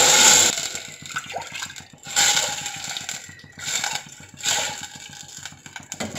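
Water pours into a cooking pot of rice in a home kitchen, a gushing splash that comes in three or four surges separated by quieter gaps, close and fairly loud with no talk.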